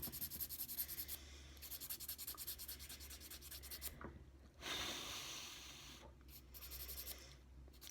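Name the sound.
filing gel nail wraps with nail file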